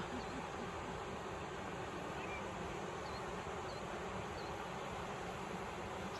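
A swarm of drones from a drone company comes in to land, giving off a faint, continuous insect-like buzz with thin whining tones over a steady background hiss.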